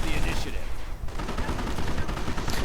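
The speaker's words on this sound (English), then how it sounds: "Volkswagen's getting hammered by the 50 caliber" Rapid bursts of .50 caliber machine gun fire in a World War II tank strategy game, loud and continuous with other battle noise, a brief lull near the middle before the firing resumes.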